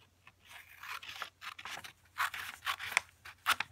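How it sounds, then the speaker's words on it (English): Scissors snip through paper while a pinwheel is cut along its lines halfway, giving a run of short, crisp cuts in quick irregular bursts, close and quiet. "what you're going to do is cut along the lines right here"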